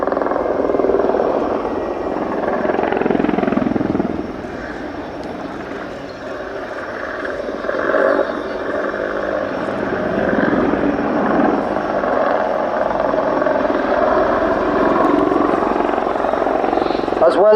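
Apache gunship helicopter in a flying display at an air show, heard as a steady broadband rotor and turbine roar that swells and fades slightly as it manoeuvres, with a commentator talking over it throughout.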